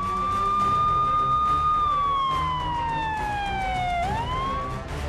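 A vehicle-mounted police-style hooter siren wails loudly and close by, holding a steady tone, then sliding down and sweeping back up, over road and engine noise.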